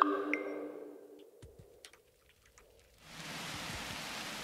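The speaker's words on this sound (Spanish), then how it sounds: "Lluvia, lluvia, lluvia, lluvia, cae. Efecto goteo," Rain falling and dripping in The Universim video game, a soft steady wash of broadband patter that swells in after a few quiet scattered drips, preceded by faint game tones.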